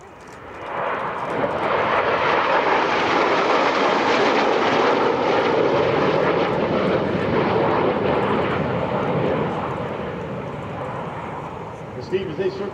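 An F-5 Tiger II jet roars past at an air show, a loud sustained broadband rush that swells, holds for several seconds, then fades as the aircraft moves away.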